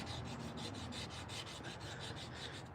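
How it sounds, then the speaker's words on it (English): A light squared wooden block wrapped in sandpaper rubs back and forth over carved wood in quick, even rasping strokes, faint and close, with no talking. "You get a light piece of wood, square it off, and put whatever grit of sandpaper you want on there."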